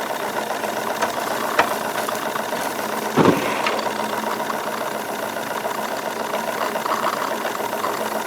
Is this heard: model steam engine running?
yes